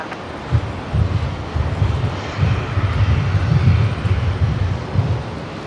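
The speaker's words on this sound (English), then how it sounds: "One of the beautiful Jetstar 321 Neos taxiing" A Jetstar Airbus A321neo taxiing at Brisbane Airport gives off a steady low engine rumble with a gusty, wind-buffeted hiss over it. The sound is sustained and moderately loud, with no talk.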